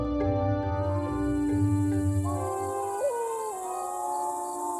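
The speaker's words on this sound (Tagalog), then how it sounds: "Normal naman sa amin na makarinig ng alulong ng mga aso." Dogs howl at night in a rural province, long drawn-out wails that overlap and shift in pitch, with a second howl rising in partway through, fairly near and clear over quiet background.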